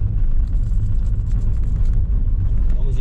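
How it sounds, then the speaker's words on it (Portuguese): A car passes close by on a rural road beside an old farm, a steady, loud low rumble of engine and tires that holds through the whole stretch without fading. "Vamos encontrar um carro aqui do nosso lado passando."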